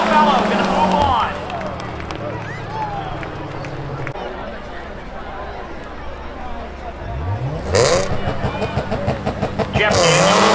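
Cars race in a spectator drag event at Seekonk Speedway, engines roaring past and fading, with a burst of revving near the end beneath a crowd's murmur and steady commentary.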